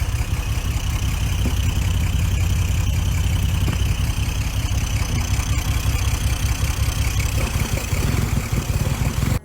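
A 1970 Porsche 2.2-liter 911 engine idles steadily in a Porsche 917 replica, a loud, close, continuous flat-six rumble with a busy mechanical texture and no voices.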